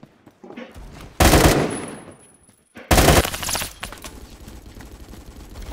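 Gunfire from the Phantom Forces shooter game, with two loud bursts of automatic fire separated by a brief lull and followed by quieter lingering shots and noise.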